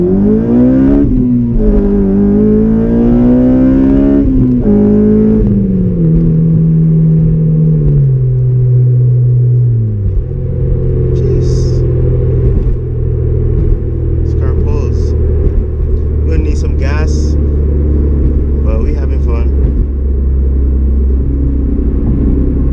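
Honda Civic Si FA5 pulling hard through the gears, engine pitch climbing then dropping at each shift before settling into a loud, close road rumble; voices talk over parts of the run.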